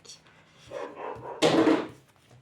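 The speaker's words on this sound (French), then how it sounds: "elle jappe tellement fort que ça fait tomber les trucs" A female dog gives one loud, close bark after a moment of soft rustling indoors.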